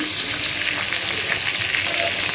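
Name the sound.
cooking food at night, frying in a pan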